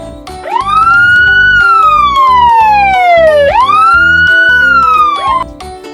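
A toy fire engine siren wails loudly and close up, in two long rising-and-falling sweeps backed by a chunky electronic beat.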